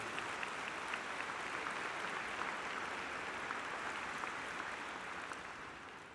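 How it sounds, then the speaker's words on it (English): Steady, dense applause from a large crowd at the Clemson ring ceremony, fairly soft and distant, holding evenly before tapering slightly at the end. "How about a round of applause for all the family members who are here today?"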